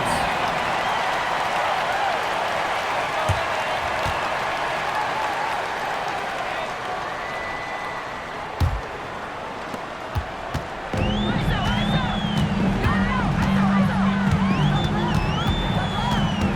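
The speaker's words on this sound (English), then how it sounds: "Brian, I think the crowd is trying to will them to victory." A simulated arena crowd at a WNBA Fever at Wings basketball game keeps up a steady roar of cheering and applause, swelling louder with whoops near the end, while commentators talk over it.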